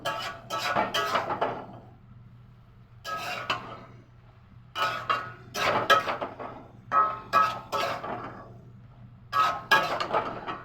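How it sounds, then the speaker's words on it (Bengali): A pot lid lifted and ghugni stirred in a kitchen pot, with a run of metallic clinks and scrapes in irregular bursts, fairly close and moderately loud, no talking. "2 মিনিটের পর ঢাকনাটা খুলে দিলাম, একটু নাড়াচাড়া করে নিলাম"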